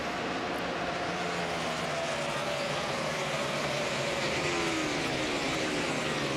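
NASCAR race cars at full speed on Dover's oval in a 2009 race, a dense continuous roar of several engines with rising and falling tones as cars sweep past, loud and steady throughout.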